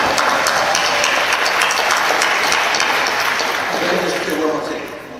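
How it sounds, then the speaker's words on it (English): Audience applause at a Battlestar Galactica convention panel, a loud, dense roar of clapping from a large crowd that holds steady for several seconds before easing off at the end. "Give yourself a round of applause."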